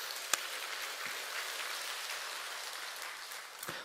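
A church congregation applauds with a steady, even wash of clapping at moderate distance, holding throughout with a couple of sharper claps near the start and end.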